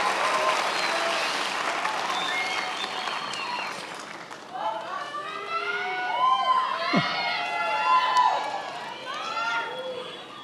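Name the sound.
audience applause for the graduates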